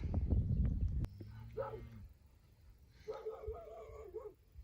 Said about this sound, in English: Them cows, my dog barks, and then they all just come around and see what all the commotion's all about